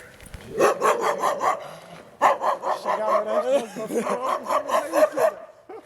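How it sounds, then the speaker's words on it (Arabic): A dog barks in a quick run of repeated yips and barks, loud and close, with a brief pause midway before another burst; speech is tagged in places alongside the barking. "الكلبه العبيطه بقى دي."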